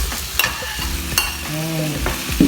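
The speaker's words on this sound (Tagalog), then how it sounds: "I-mix na nato ang pork." Pork being stirred into browned onions frying in a pan, a steady sizzle broken by a few scraping strokes of the spoon, close and fairly loud.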